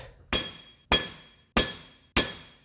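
Four heavy hammer blows strike the rear wheel hub of a 2012 Subaru Impreza, evenly spaced about 0.6 seconds apart, each a loud, bright metallic clang with a ringing tail, close by and with no talking.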